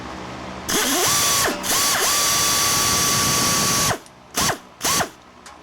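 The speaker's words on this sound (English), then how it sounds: "Just loosen these clamps right here." A ratchet wrench loosens exhaust clamps under a car, producing loud, close metallic clicking bursts: a long steady run of ratcheting followed by two short strokes.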